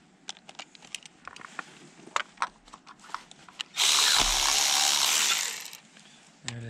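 A ratchet with a spark plug socket removing a spark plug from a junkyard car engine, several close sharp clicks followed by a loud two-second whirring burst and a few more clicks.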